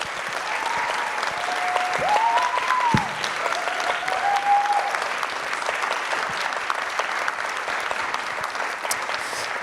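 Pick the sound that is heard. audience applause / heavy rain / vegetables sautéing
audience applause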